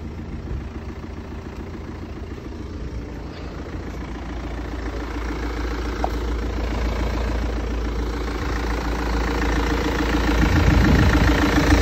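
A 2013 BMW X3 2.0 diesel with 135 kW and 309,000 km idles with a steady low rumble and rhythmic diesel clatter, rising slightly toward the end, with no talking.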